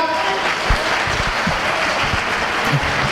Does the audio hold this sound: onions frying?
no